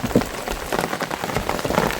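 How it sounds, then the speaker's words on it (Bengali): Heavy rain pours down beside the Garal river during a storm, a dense, continuous patter of drops striking surfaces close by, with no voices. "বৃষ্টি বর্ষাও চলে এসছে জোরে।"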